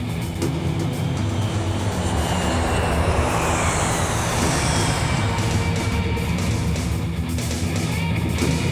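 Airplane on approach to land, a loud sustained engine roar with a broad rushing wash that holds steady throughout, no voices.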